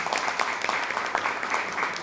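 Steady crowd applause during a ceremony honouring the director of a national archive, continuous and moderately loud for the full stretch, with faint voices mixed in.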